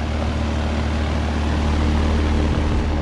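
A 2019 Carrier Comfort Series 3-ton heat pump with an LG compressor runs in cool mode, producing a loud, steady, close droning hum with a low tonal buzz throughout.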